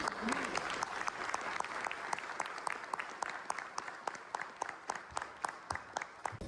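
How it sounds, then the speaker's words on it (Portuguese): Scattered clapping from a small group, individual claps distinct and fairly steady, thinning out toward the end. "Uma salva de palmas"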